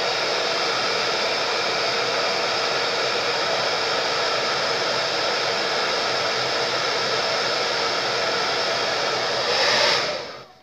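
A hair dryer blows steadily up close, drying a glued jar craft, a constant loud rushing whir that cuts off sharply at the end.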